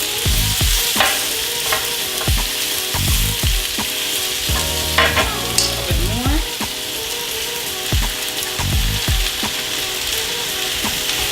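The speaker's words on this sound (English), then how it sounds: "And start putting the spinach and kale in. And a little bit, and you're going to stir it in." Spinach and kale are stirred into hot oil in a pan, a close sizzle punctuated by regular scraping and clacking strokes of a utensil against the pan, with occasional rattling.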